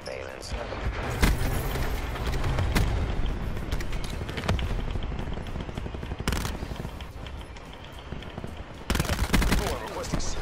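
Burst-fire gunfire in the video game Black Ops 4 rattles in rapid, loud volleys over dense game noise, with heavy booms mixed in and no clear speech.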